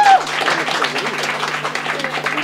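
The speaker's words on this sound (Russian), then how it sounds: "Ваши аплодисменты, Алисе" Audience applause during a rock radio broadcast event, steady moderate clapping from a small crowd that carries on evenly, with some background voices mixed in.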